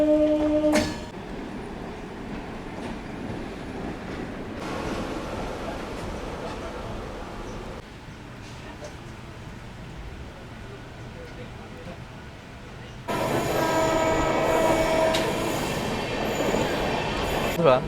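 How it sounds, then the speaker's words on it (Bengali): The 13189 Sealdah Balurghat Express pulling out of Sealdah station in Kolkata, with continuous rumbling wheels and rattling carriages, a brief squeal, and the noise swelling louder near the end. "ট্রেন ছেড়ে বেরিয়ে যাচ্ছে শিয়ালদা রেলওয়ে স্টেশন"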